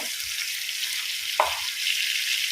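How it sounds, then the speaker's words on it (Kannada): Masala paste fries in a pan for a bondas fish dish, giving a steady, close hiss of sizzling oil broken once by a quick stirring scrape. "ಈಗಿದ್ದು ಸ್ವಲ್ಪ ಫ್ರೈ ಆಗಲಿ ಮಸಾಲೆ."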